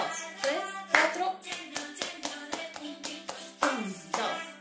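Hands clap in a steady counted rhythm during a home family music game, sharp evenly spaced claps close by with a voice speaking along over them.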